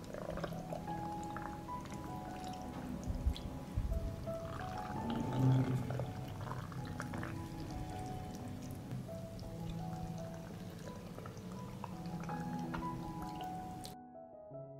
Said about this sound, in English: I pour water into the jars.